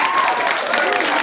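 Brief burst of clapping from a middle school audience thanking a visiting science author, with some voices mixed in beneath the applause.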